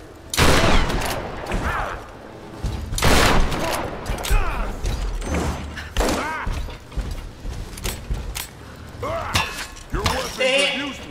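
Heavy shots and crashing impacts erupt in irregular bursts during a boss fight in the video game Tomb Raider, loud and close, with a shouting voice between the blasts.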